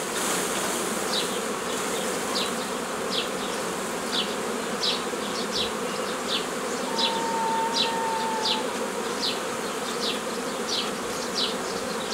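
Honey bees buzz steadily at a beehive during hobby beekeeping work, a dense continuous insect drone with individual bees zipping past up close, no talking.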